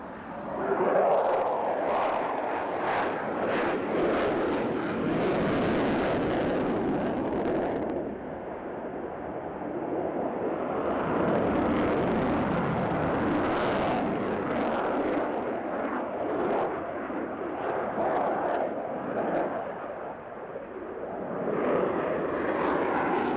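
Engines of a Ukrainian Sukhoi Su-27 Flanker fighter jet performing at an air show roar continuously and loudly, a broad rumbling thrust that swells and fades slightly as the aircraft passes, with no talking.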